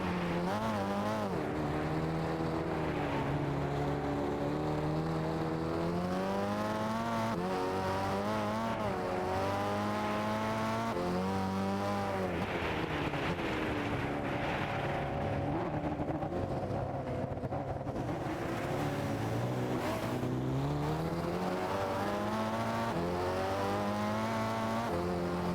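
A race car drifts in Gran Turismo 6, its engine a loud, continuous whine that rises and falls with revving and shifting throughout, with no break and no voices.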